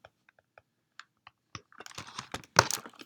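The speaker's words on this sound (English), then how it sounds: "So in my calculator, I'm typing," Calculator buttons are pressed in a quick, uneven series of light plastic clicks, sparse at first and then a denser flurry of taps, close and fairly quiet.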